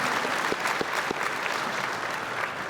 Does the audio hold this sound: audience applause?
yes